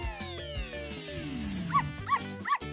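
A dog gives three short, high yips in quick succession toward the end, following a falling whistling tone and cartoonish background sounds.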